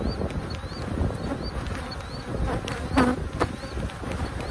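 Dense buzzing of many bees fills the scene, a steady close hum with scattered individual insects whirring past.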